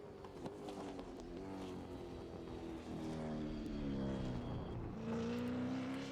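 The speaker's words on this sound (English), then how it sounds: "we have just the one engine. It's quite an unusual sound." A lone race car engine runs at the Newcastle street circuit during the 2019 Newcastle 250, a droning engine tone shifting in pitch as it revs, moderately distant over crowd ambience.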